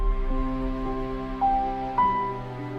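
An orchestral composition plays back with mixing plugins active, giving full, sustained chords that shift to new notes every half second or so at a moderate, even level.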